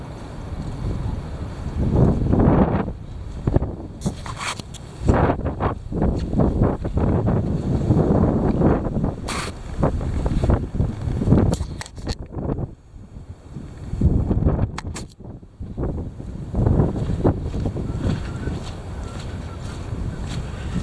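Heavy wind buffets the microphone in irregular rumbling gusts that rise and fall over about twenty seconds, loud and close with no other clear sound.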